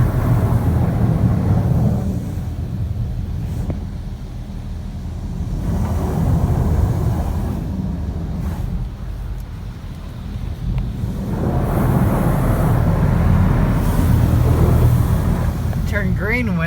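Water jets rinse a car inside a LaserWash M5 automatic car wash, a broad steady rushing spray that swells and fades in waves, loud and close, with spoken voices over it.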